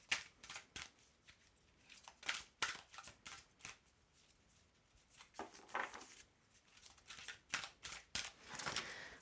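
Tarot cards being shuffled by hand, a series of quick papery snaps, riffles and taps in irregular bursts, close and soft, without speech.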